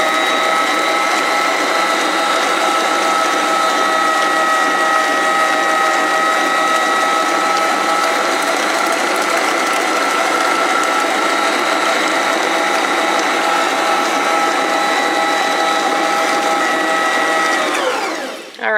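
An electric mixer beats eggs into cookie dough for retro lunchbox cookies, a steady loud whirring drone with a mechanical gear-like ratchet texture running unbroken for almost nineteen seconds before cutting off at the end.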